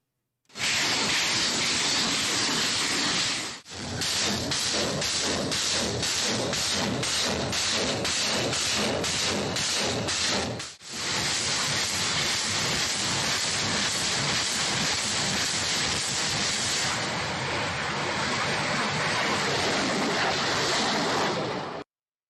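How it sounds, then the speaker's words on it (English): A Grad multiple rocket launcher fires at forces in the Luhansk region, giving a long loud roaring hiss of launches with rapid rhythmic pulsing thuds, broken by two short gaps, with no talk. "we can see a grad firing at Ukrainian forces off in the distance"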